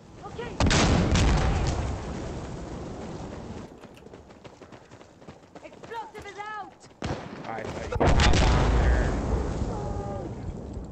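A frag grenade in Insurgency Sandstorm goes off with a loud blast followed by rumbling debris, amid further gunfire and explosions, with voices shouting over the combat.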